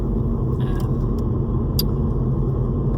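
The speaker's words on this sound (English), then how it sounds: "I'm just driving to Harpa now" Car driving on a snowy mountain road, with a steady low engine and road rumble filling the cabin throughout and a couple of faint clicks above it.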